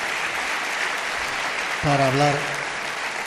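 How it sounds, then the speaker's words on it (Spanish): A broadcast audience claps for a guest named Amado in a continuous, even wash of applause, with someone speaking briefly over it near the end. "Os pido un aplauso para Amado"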